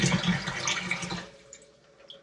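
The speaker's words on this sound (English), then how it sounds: "now it says to pour 1 liter of boiling water and mix with sanitized paddle" Boiling water, one liter, being poured into a plastic fermenter bucket for a hard seltzer brew, a brief splashing gush that quickly tapers to trickles and faint drips, close and alone.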